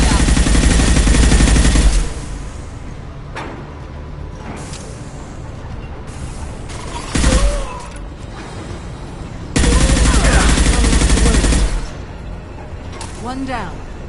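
Bursts of loud combat turret gunfire in the video game Mass Effect 2, two long sustained volleys separated by quieter stretches of game ambience and a brief sharp burst in between, with some speech.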